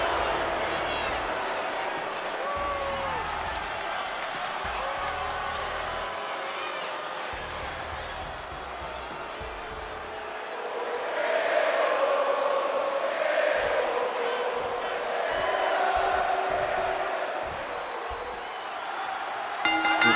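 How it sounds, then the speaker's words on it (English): Crowd cheering in the wrestling video game WWE 2K23, a steady roar of a large arena audience that swells louder partway through, heard under continuous commentary. "As we hear, this crowd is behind Chad Gable."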